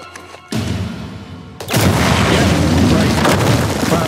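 A heavy explosion in the video game Uncharted 4, with an abrupt boom followed by a louder second blast that rolls into a sustained roar of debris and rumble.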